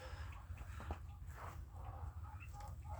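Brahma chickens cluck and murmur in a poultry pen, a loose run of short clucks over a steady low rumble of background noise, moderately close.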